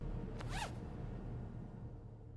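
A zipper on a travel bag is pulled once in a quick, faint rasp near the start, then a quiet background hum continues.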